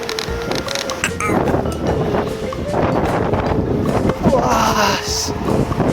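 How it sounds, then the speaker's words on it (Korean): Strong headwind buffeting the microphone while cycling in Jeju, a continuous rough roaring gust noise throughout, with someone talking in the wind. "정면으로 지금 바람이 엄청 불거든요."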